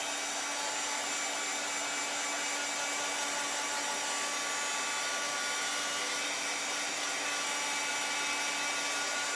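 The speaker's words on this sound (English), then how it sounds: "hit it with the dryer here real quick" A hair dryer blows steadily at close range, a constant, even whoosh with a faint motor whine, drying freshly stenciled Christmas paint, with no talking over it.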